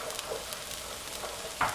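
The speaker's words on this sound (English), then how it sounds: "I'm basically going to take this onion, throw it in the pan. You hear a nice light sizzle." Onion frying in a hot oiled pan gives a light, steady sizzle with faint crackles, quiet and close, and one brief sharper hiss near the end.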